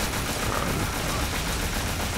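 Rapid machine gun fire from a video game rattles in a dense, continuous burst, loud and close, with no pauses and no voices.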